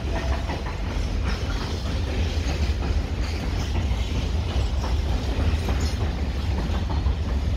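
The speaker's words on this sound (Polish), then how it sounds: "Dużo tędy przejeżdża pociągów towarowych." Freight train passing nearby, a loud continuous rumble with rolling wheel clatter and faint mechanical squeaks, steady throughout without speech.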